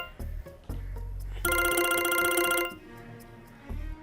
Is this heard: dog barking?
no